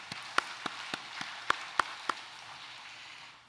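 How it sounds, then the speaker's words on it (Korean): Scattered, sparse clapping from a church congregation during a Sunday worship service, a handful of separate claps spread over a couple of seconds against soft background hiss before falling quiet. "하나님께 영광의 박수 올려드리겠습니다."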